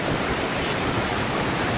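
Fast-flowing mountain stream on the Rudranath trek, a dense, steady roar of rushing water filling the whole clip, loud and close with no pauses.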